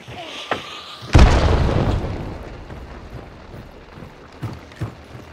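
A grenade blast in a video game lands as one loud, deep boom that rolls off over about a second. Two shorter, quieter thumps follow a few seconds later.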